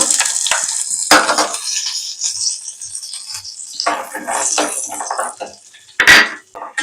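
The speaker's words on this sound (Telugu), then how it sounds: "ఒక స్పూన్ నెయ్యి వేసుకోవాలి వేడెక్కిందండి జీడిపప్పు వేసి వేస్తున్నాను" Cashews frying in hot ghee in a pan, a bright steady sizzle with occasional sharp clinks of a spoon against the metal, close and fairly loud, no talking.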